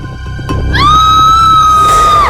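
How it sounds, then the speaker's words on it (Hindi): A loud, sustained high-pitched child's scream in a TV crime drama, rising sharply and holding for over a second above low background noise. "बच्चे की चीखने की आवाज।"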